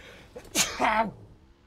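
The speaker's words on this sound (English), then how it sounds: "Oh, I'm going to sneeze." A single human sneeze, a sharp inhaled catch followed by a loud burst, close to the microphone, with no other talk around it.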